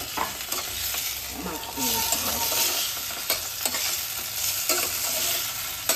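Chicken pieces fry in butter and plenty of garlic in a pan, giving a steady close sizzle broken by repeated scraping stir strokes, with no talking.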